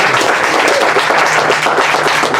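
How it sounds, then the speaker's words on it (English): An audience applauds a woman at a community talk addressing a marginalized community, giving a dense, steady burst of clapping that stays loud and even for a couple of seconds with no talk over it. "give another applause for this woman."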